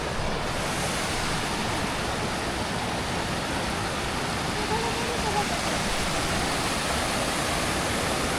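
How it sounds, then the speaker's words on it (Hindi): Rushing mountain water in the hills of Kashmir roars in a loud, unbroken wash of noise, close and steady from start to finish, with faint voices barely showing through it. "इस खुशी में पीछे पानी की इतनी ज़बरदस्त आवाज़"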